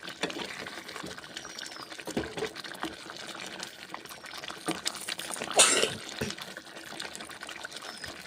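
Water poured a little at a time into chicken being stir-fried in a pan, giving a steady wet trickle and splashing with a brief louder gush midway; no talking.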